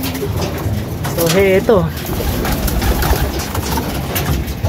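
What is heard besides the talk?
racing pigeon cooing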